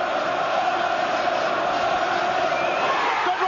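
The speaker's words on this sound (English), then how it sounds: "Listen to this crowd, the chanting, the singing." A dense, continuous roar from a boxing arena crowd at a Benn versus McClellan fight, with chanting and singing blended into one loud wall of voices that holds steady throughout.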